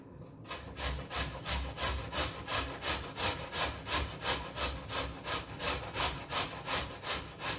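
Kalabasa squash being grated by hand for a torta, a steady rhythmic scraping with about twenty even strokes, close and fairly loud, with no talking.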